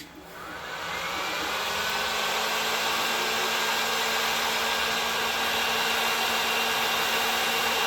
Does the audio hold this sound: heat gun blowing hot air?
yes